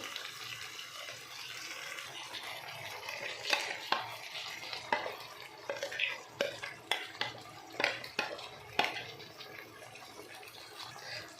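Ground masala for a ridge gourd curry frying in a pan, stirred with a spoon in a steady series of sharp scraping clatters against the metal over a low background hiss, no voices.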